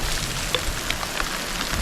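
Steady rain falling on a garden where chili plants grow, a dense even patter close by with scattered louder drops striking nearby surfaces.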